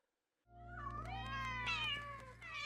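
A cat in a cartoon comedy scene lets out a long, drawn-out meow that rises and wavers, clear and close, starting after a brief silence and sustained to the end.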